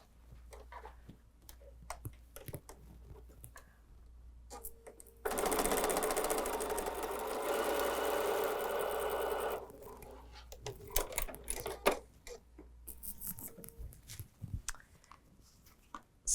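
A sewing machine stitches quilt block pieces in one steady run of about four seconds, a close mechanical whir amid quiet ticks and clicks of handling before and after.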